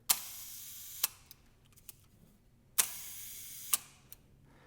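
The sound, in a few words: old large format camera shutter firing at 1 second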